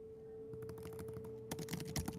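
Rapid clicks of someone typing on a computer keyboard, close and fairly quiet, with a burst of heavier keystrokes toward the end over a faint steady hum.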